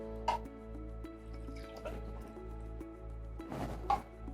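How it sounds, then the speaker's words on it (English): Whole milk is poured from a container into a cup, with soft drips and liquid splashes in a quiet room under a low steady hum. "we're gonna pour it out into this cup"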